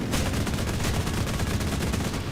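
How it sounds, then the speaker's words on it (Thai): A 23 mm aircraft cannon in War Thunder firing at bunkers, a dense, continuous roar of rapid shots with rattling bursts throughout, loud and unbroken, no voice. "ผมมีปืนขนาด 23 มม นะฮะ ยิง พวกบังเกอร์ได้แบบสบายๆ"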